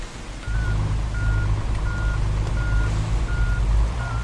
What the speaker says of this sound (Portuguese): Deixa eu estar dando um ré aqui rapidão.